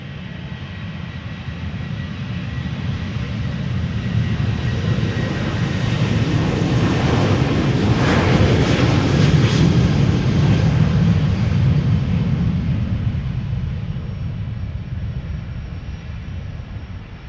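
Jet airliners departing Amsterdam Schiphol's Polderbaan, heard up close: a loud, sustained engine roar that swells to a peak midway as an aircraft passes, then slowly fades while another keeps rumbling behind it.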